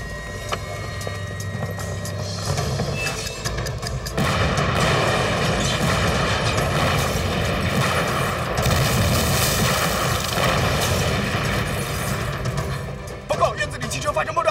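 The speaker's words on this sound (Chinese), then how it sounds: "院子里汽车发生爆炸" A car explodes in a courtyard in a wartime action scene: a loud, sustained rumbling roar with crackling that swells partway through and stays heavy to the end.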